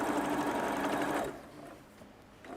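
A sewing machine runs steadily top stitching around the outside of a bag made from blue fabric, a close whirring hum that stops partway and leaves quiet room sound.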